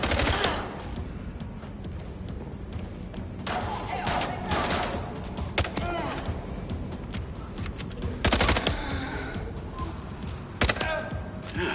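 Gunfire from the video game MindsEye, a steady run of shots and bursts with sharp louder cracks standing out, set against busy game sound throughout.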